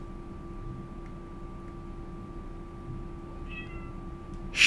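A cat in a video game gives a short meow, faint at first and then a louder, sharper one right at the end, over a quiet low background hum, with no voices.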